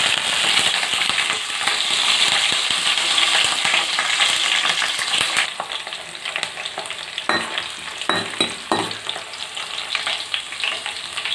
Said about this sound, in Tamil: தாளிக்கிறதுக்கு கொஞ்சமாக சின்ன வெங்காயம், 5 பல் பூண்டு, கருவேப்பிலை சேர்த்துக்கிறேன்.